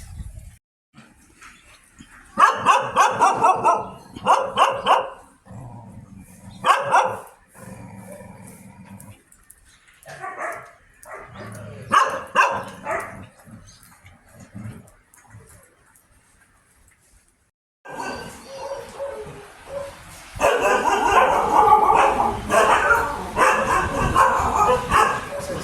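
Dogs at a sanctuary in Chonburi, Thailand, bark and yip around feeding time, scattered barks early giving way to a louder, denser chorus of many dogs near the end.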